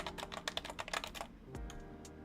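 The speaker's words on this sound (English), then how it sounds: "Like me tapping on my desk, my keyboard clicking." Computer keyboard keys clicking in quick, uneven bursts of typing at close range, followed by a brief soft knock and a quieter pause, with no voices.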